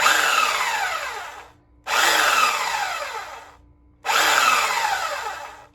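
Three long whirring bursts from a power sander on a wooden outdoor table, each starting loud and slowly winding down before the next, close by with no talking.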